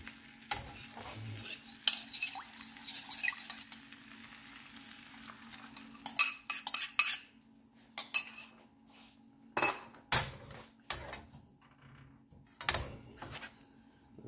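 Char kway teow, Malaysian flat rice noodles, being mixed with sauce in a pan: a metal utensil scrapes and clinks repeatedly against the pan over a faint sizzle, the strokes irregular and close up.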